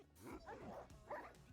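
Dog sounds play from a screen, a couple of short yipping barks, faint and close together.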